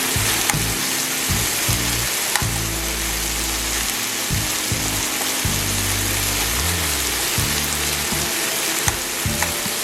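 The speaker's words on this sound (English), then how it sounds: "I got a lot of splattering on the side here." Wagyu beef flat frying in a hot pan with oil, loud continuous sizzle with crackling spatter pops throughout, no voices.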